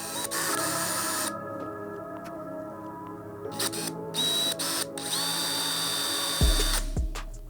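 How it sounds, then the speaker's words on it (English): A power drill bites into and drills through a motorcycle fender eliminator for a 2023+ Suzuki GSX-8S, close whining bursts broken by short pauses, with a sharp thump near the end. "I will drill right through"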